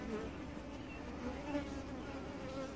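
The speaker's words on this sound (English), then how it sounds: "very gentle bees." Italian honey bees buzz steadily around an open hive frame outdoors in hot weather, a dense, continuous drone close by with no talking.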